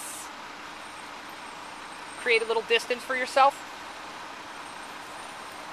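A truck idles nearby as a steady low engine rumble running throughout, with a person speaking briefly over it.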